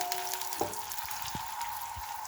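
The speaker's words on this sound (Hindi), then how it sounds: "इसी मीडियम टू लो फ्लेम पे हमने प्याज़ों को हल्का सा गोल्डन कर लेना" Onions frying in a pan over a medium-low flame, a steady soft sizzle with a few faint clinks and stirring taps, close and alone without talk.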